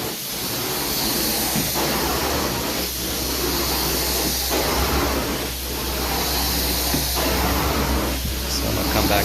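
A carpet cleaning extractor wand makes dry strokes over heavily soiled, worn carpet, giving a continuous loud suction hiss and roar that swells and dips in a steady back-and-forth rhythm of passes.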